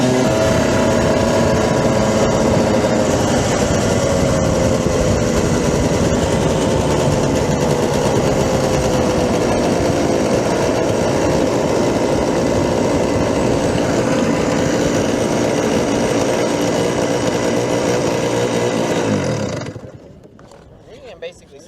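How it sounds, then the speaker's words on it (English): A race car engine revs hard during a time attack session, loud and high-pitched with the pitch sweeping up and down, sustained for about nineteen seconds before cutting off abruptly into near silence. "I don't know how high my engine is revving."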